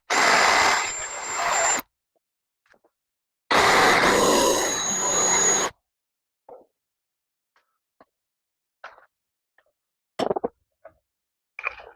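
A power drill with a 1/2 inch bit bores through metal while building an aircraft jack stand, in two loud whirring bursts of about two seconds each, followed by quieter clicks and handling knocks.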